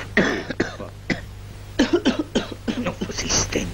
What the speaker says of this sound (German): Hust mich doch nicht an.